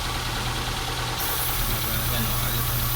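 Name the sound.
car engine idling with PCV valve unplugged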